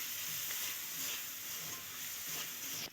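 Sliced onions sizzle steadily in hot oil with sugar and salt, a bright continuous hiss with light stirring and no talk, close and fairly loud.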